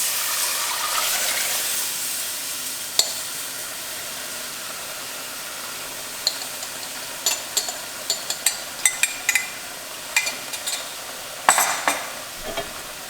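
Beef broth is stirred into a pot of vegetables cooked with flour for beef stew made from chuck roast, a steady close sizzle with scraping spoon clatters and clicks growing busier toward the end.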